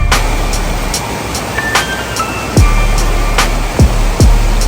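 A flooded creek rushes past a spot lined with century-old homes and buildings, a steady broad roar of water that runs throughout, with a few brief low thumps cutting through near the end.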